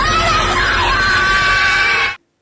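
A woman screams loudly and continuously for about two seconds in a raw, shrill cry that cuts off abruptly.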